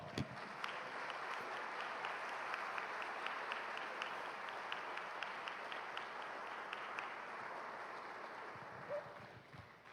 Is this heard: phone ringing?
no